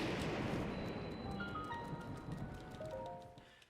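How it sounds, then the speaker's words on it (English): Rain falling in the video game The Legend of Zelda: Breath of the Wild, a soft, steady hiss of drops on surfaces, quiet and continuous beneath faint tonal game sounds. "It's raining, so I can't do the fire strat here."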